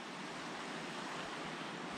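Calm, flat sea on the Bristol Channel washing gently against the shore, a steady soft broadband wash with faint wind, continuous and even throughout with no voices.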